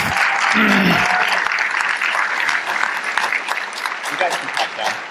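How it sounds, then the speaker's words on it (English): Applause from a summit audience at a closing plenary, a loud dense burst of clapping that follows a brief voice at the start and carries on steadily to the end. "a huge round of applause to Chris and the whole staff"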